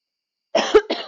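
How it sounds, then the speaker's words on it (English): One person gives a short, close double cough with a throaty rasp after a moment of silence, then a third smaller cough right behind it. "I'm gonna end up coughing."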